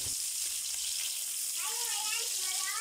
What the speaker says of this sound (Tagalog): Simulan na nating magisa ng bawang